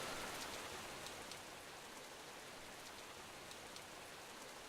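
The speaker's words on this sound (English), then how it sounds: "It was raining heavily that day, kind of like how it was right now." Heavy rain in a visual novel video game, a steady, even hiss of downpour that stays faint and unbroken throughout, with no voices.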